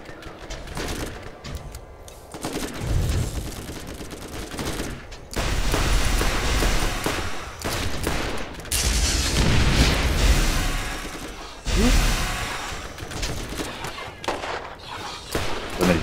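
Sustained bursts of gunfire from the Borderlands video game, loud and dense with rapid shots and booming impacts, continuing through most of the stretch with brief lulls.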